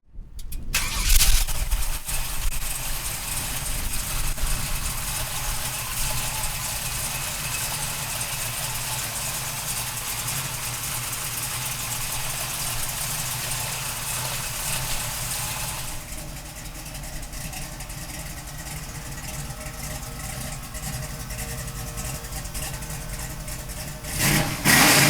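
A 1967 Chevrolet Camaro cranks and fires up with a loud roar, then settles into a steady, rumbling idle for over twenty seconds, with a brief rev near the end.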